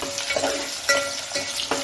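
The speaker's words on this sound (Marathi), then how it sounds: "कांदा जरा आपला गोल्डन होईपर्यंत परतायचं आहे ऑइलमध्ये चांगलं." Onion sizzles steadily in oil at close range as it fries until golden, with occasional soft scrapes of stirring breaking through the hiss.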